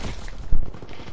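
Gunfire in a WW2 online shooter game: a brief, punchy burst of shots with a sharp crack in the middle, heard close over a busy game background.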